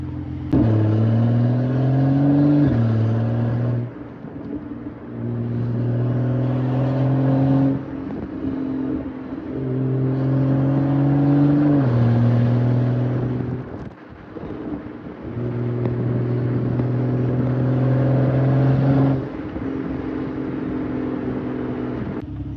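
A 2012 BMW 135i with its AC pulley deleted drives and accelerates, engine tone rising through the gears in repeated pulls with shifts between, heard loud from inside the car with wind noise.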